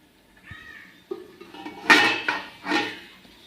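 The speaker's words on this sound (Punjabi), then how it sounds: "ਆਪਾਂ ਢੱਕ ਦਿੰਨੇ ਆ ਜੀ ਢੱਕ ਕੇ ਸਿਮ ਗੈਸ ਤੇ 2 ਮਿੰਟ ਲਈ ਪਕਾਵਾਂਗੇ" A metal lid clatters onto a cooking pot of soya bean curry on the stove, a few close, sharp clinks and a rattling settle in quick succession, with no talk.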